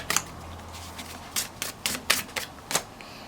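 Tarot cards are shuffled during a love reading, giving soft papery riffles and rubbing in several quick bursts with short pauses between them, close and quiet, with no talking.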